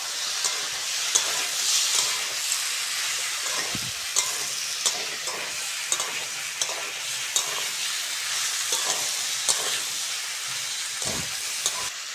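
Tomato and spring onion greens frying in a pan for a flat bean, potato and eggplant curry, a continuous loud hissing sizzle punctuated by regular spatula stirs and scrapes, with no voices.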